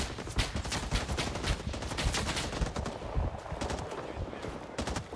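Rapid automatic gunfire from a Rising Storm 2: Vietnam firefight crackles in dense, steady bursts with sharp individual shots, loud and close, continuing without pause over the whole stretch.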